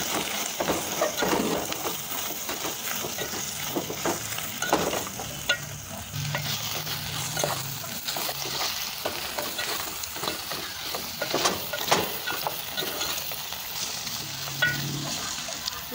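A spoon works through a pot of spicy spinach beef stew seasoned with beef cubes, giving a continuous bubbling, wet churn with frequent soft knocks and scrapes, close and moderately loud.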